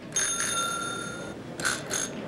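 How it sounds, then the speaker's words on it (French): Quiz-show buzzer bells are tested in a studio: a bright metallic ringing lasts over a second, then after a short gap two quicker rings follow, clear and close with no talk. "Est-ce que les sonnettes fonctionnent bien?"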